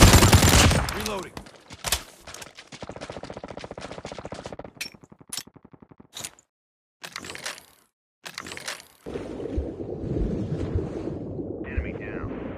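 Rapid automatic bursts from a CSS 9 SMG in a video game firefight, loud close crackling volleys broken by short pauses, with scattered single shots and a steady windy background rush.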